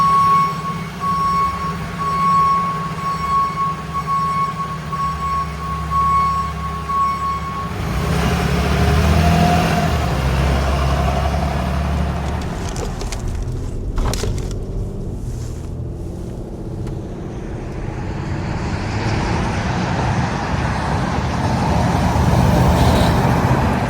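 A 2024 truck, its engine freshly replaced, drives along the road: a steady low engine and road rumble with a tonal whine early on, then rising drivetrain and tyre noise, continuous throughout.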